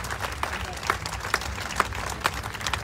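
Crowd applause at an outdoor political rally in Bologna, steady mid-level clapping with a few sharper claps standing out, continuing throughout without a break.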